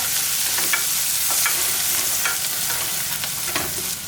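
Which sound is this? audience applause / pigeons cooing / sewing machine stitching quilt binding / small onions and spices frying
small onions and spices frying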